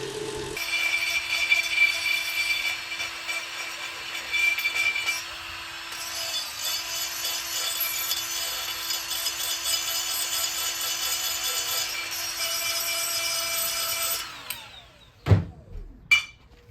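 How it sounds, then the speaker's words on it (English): Grinder working down a part so it sits level during an engine repair on a 2003 Toyota Highlander 2.4L, a steady close abrasive whine held for about fourteen seconds, then cutting off with a few clunks. "So we'll grind this down"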